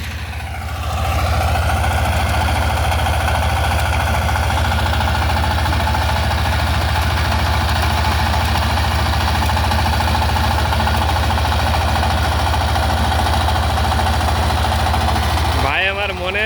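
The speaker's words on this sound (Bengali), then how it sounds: "ভাই আমার মনের সুখে পাওয়ার টিলার চালাইতেছে" A mini rotary power tiller churns through hard, dry soil, its engine a loud, unbroken drone with a rough, rattling edge that holds steady and close for the whole stretch.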